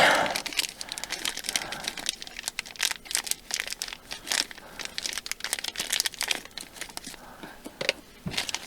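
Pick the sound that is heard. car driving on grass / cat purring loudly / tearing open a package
tearing open a package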